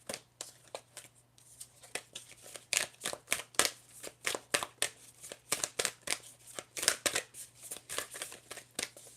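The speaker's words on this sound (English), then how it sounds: "I'm going to shuffle for more messages for you." Tarot cards being shuffled by hand in a quiet room, producing a rapid series of crisp riffling snaps and flutters in irregular bursts, close and fairly soft, with a faint steady hum underneath.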